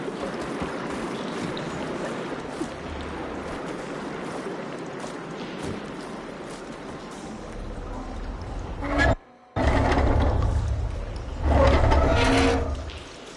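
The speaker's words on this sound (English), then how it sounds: "Aloy, I can hear water in the room again." Water rushing and circulating through a room after a valve is opened in Horizon Forbidden West, a steady gurgling stream with a brief dropout and a louder surge near the end.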